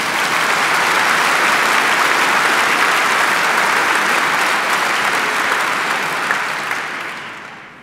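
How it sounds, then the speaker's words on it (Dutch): Sustained loud audience applause at a 25th anniversary company concert, a dense steady wash of clapping for about seven seconds that gradually thins toward the end. "zou jullie daar in ieder geval voor willen applaudisseren?"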